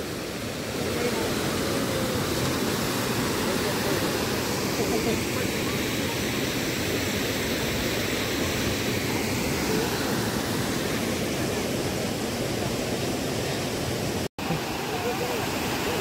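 Vyaghreshwar waterfall in the Konkan, swollen by heavy May rain, gives off a loud, steady broadband roar of crashing water that holds without a break, apart from a brief dropout near the end.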